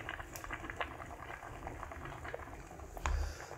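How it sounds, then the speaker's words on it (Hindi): Durum wheat spaghetti boils in a pot of water, a quiet, steady bubbling with scattered popping patters close by and a brief louder surge of bubbling near the end. "सो बाई द टाइम हमारा यहाँ पे पास्ता कुक हो रहा है"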